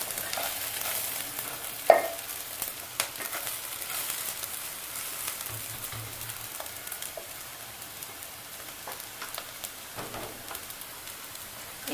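Two slit green chillies frying in a pan of chicken polao, a soft steady sizzle with occasional stirring clinks and scrapes, fairly quiet and close.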